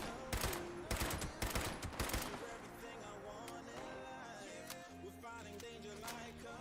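Automated turrets in a video game fire rapid bursts of loud gunfire, dense at first and then thinning into scattered shots over background game music.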